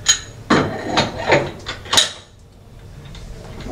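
Several sharp metallic clanks and knocks as a duct flange is fitted onto the fan outlet of a TSI Panda duct leakage tester, five or six close, distinct impacts in quick succession, then quiet.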